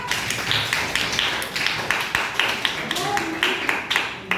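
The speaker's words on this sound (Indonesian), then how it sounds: "Tepuk tangan buat kelompok 4" A classroom group claps for group 4, a run of distinct, moderately loud hand claps in uneven rhythm, with a voice briefly heard among them.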